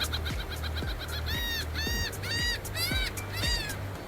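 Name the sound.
birds calling on Padre Island beach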